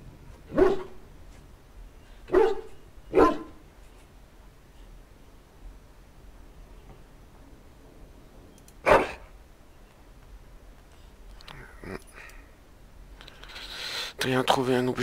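A dog in the video game Dragon Age Origins barks in short bursts, three quick barks followed by another after a pause, amid game sounds, with someone talking over it.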